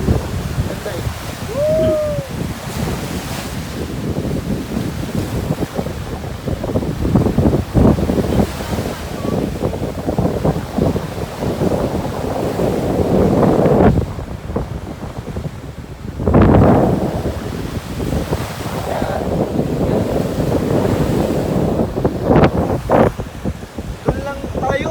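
Heavy wind buffets the microphone in gusts at Tondaligan Beach in Dagupan City, Philippines, mixed with surf washing in, while voices talk intermittently.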